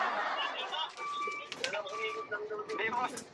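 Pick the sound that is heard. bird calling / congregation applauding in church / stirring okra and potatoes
bird calling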